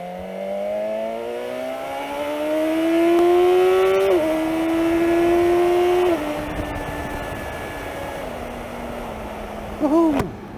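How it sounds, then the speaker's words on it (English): A motorcycle pulling away on a pub ride and accelerating hard, its engine note climbing through a couple of gear changes before easing to a steady drone, loud and close with wind rush. "Gotta love the acceleration on this bike"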